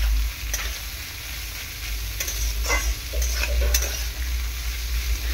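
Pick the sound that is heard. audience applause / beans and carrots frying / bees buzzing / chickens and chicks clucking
beans and carrots frying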